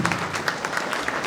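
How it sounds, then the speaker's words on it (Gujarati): Applause for donors at a Sorathiya Prajapati community mass wedding in Upleta, a large crowd clapping steadily, dense and loud, with no break. "આપણે થોડીક વાર તાળીઓ શરૂ રાખશું"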